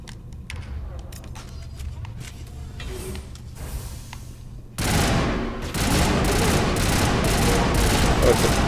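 Burst rifle fire from the video game Mass Effect, a dense loud stretch of rapid gunfire breaking in midway after quieter game noise with clicking sounds, continuing steadily to the end.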